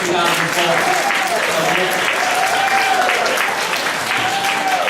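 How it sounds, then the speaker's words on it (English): Sustained applause from an audience at an awards gathering honoring Scott, steady dense clapping throughout with some crowd noise mixed in. "We all have another round of applause for Scott"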